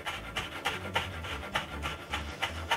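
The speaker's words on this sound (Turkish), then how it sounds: "Şöyle bir tutam maydanozu da ince ince kıyıyorum." A knife finely chopping a small bunch of parsley on a board, steady repeated thuds and rasping cuts in quick rhythmic bursts, close and fairly loud with no talk.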